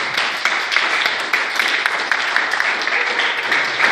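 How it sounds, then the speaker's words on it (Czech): A crowd applauds at a Kopanina Masters 2017 results ceremony, many hands clapping in a dense, lively patter with a few sharper individual claps, sustained for several seconds with possible faint voices underneath. "pojďme se všichni zatleskat"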